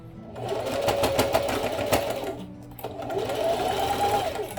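A sewing machine runs in two steady stretches as it base-stitches along the edge of vinyl lining, with a short pause between runs; the motor whirs loud and close, with no talking.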